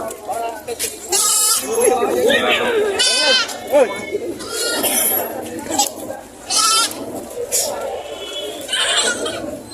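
A buck goat bleats repeatedly at a livestock market in Padre Garcia, Batangas, loud wavering calls mixed with other goats and frequent nearby talk of buyers and sellers.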